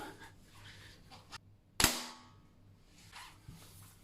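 A single sharp crack from a Diana LP8 Magnum air pistol firing, loud and close, with a brief metallic ring trailing off in an otherwise quiet space.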